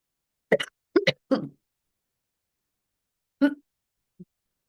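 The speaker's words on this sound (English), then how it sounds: "I'm gonna have a coughing fit" Several short, sharp coughs come in a quick cluster, then a pause, then one more cough and a faint final sound, in an otherwise quiet room.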